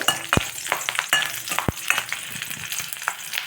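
Four green chillies and five dried chillies fry in a pan, crackling and sizzling, with a couple of sharp spatula knocks against the pan and scattered pops over a steady hiss.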